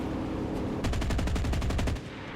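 Rapid machine-gun burst from fighter plane cannons in a flight sim dogfight, La-7 against Ki-84, about a dozen sharp evenly spaced shots over one second, loud and close above a steady engine drone.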